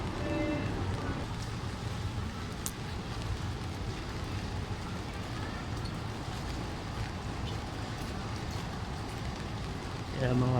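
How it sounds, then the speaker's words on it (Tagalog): Steady rain falls on a street in Ueno, Tokyo, a continuous broadband hiss and patter holding level throughout at moderate loudness, with scattered faint background sounds. "Umuulan."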